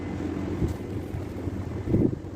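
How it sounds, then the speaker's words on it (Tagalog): Gusty hot, dusty wind in Kuwait buffets the microphone in low rumbling bursts, with a couple of stronger gusts standing out and no talking. "Mahangin na mainit na alikabok."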